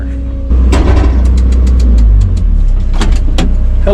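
An excavator's engine runs loudly and close while the machine moves near a burning brush pile in late November, a steady low rumble with rattling clanks over it.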